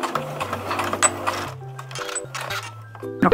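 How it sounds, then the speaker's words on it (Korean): A home sewing machine stitches fabric in a steady mechanical whir, with its motor pitch shifting as it speeds up and slows, close and clear with no voices. "다시 한번 윗실을 노루발 사이에 넣고 방금처럼 재봉해 볼게요"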